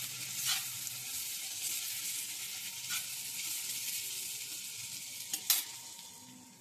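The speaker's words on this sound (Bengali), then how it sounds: "এবার আমি ঢাকনা খুলে প্রথমে একবার নেড়ে দেব।" Food frying and sizzling in a pan as the lid comes off and the contents are stirred, with a steady hiss throughout and a couple of sharper scraping stirs near the end; no talking.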